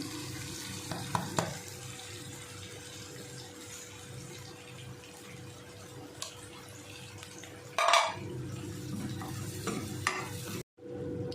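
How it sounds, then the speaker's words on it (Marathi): Ground spices (chili powder, turmeric and garam masala) roast in a pan for an Afghani egg masala, with a steady sizzle, soft stirring scrapes and one louder clatter near the end, and no voices. "आता ही व्यवस्थित अगदी भाजून घ्यायची"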